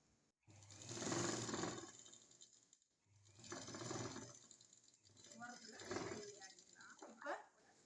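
A sewing machine stitches a silk skirt in three short runs separated by brief pauses, quiet and fairly close, with a voice talking over it.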